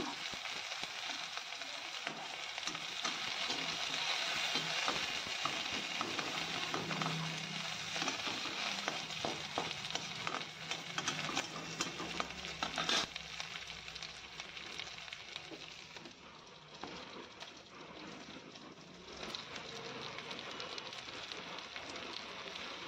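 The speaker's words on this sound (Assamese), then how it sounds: "নহৰু পিঁয়াজ জলকীয়াখিনি অলপ সময় ভাজিব লাগিব" Garlic, onion and chilli fry in oil as a steady, fairly soft crackling sizzle, with fine popping bursts that continue for over twenty seconds and no voices.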